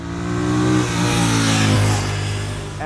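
A Royal Enfield Classic 650 motorcycle engine revs up and holds a loud, smooth note close by, its pitch rising and falling through a few seconds with no talking over it.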